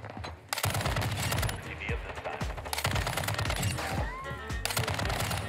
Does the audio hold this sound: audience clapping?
no